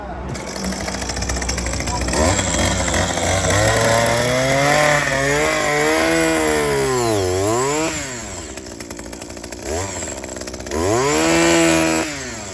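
A plant auger drill boring into hard, watered soil to install termite bait, a loud motor with rising and falling pitch as it bites and eases, pausing briefly before revving again.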